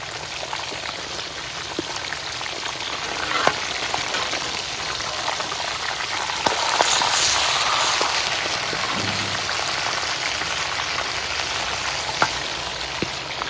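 Fish frying in hot oil for a crispy masala fish fry, a steady dense sizzle and crackle filling the whole stretch, close and loud, with occasional sharper pops and no talking.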